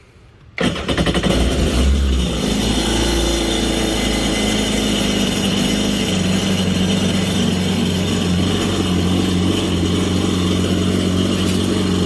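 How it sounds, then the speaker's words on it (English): A Kawasaki STX-15F jet ski engine starts abruptly and keeps running steadily at a loud, rough idle with a constant low hum while being winterized with antifreeze, no talking. "I'm going to turn the engine on, turn the pump on to pump the antifreeze through."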